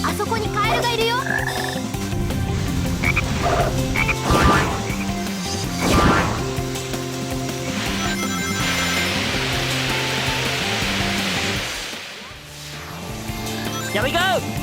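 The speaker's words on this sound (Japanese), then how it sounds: "カエルの声が聞こえないか。" Repeated frog croaks in the Sonic Heroes forest stage, mixed with game music, sharp whacking hits and other in-game effects, fairly loud and continuous.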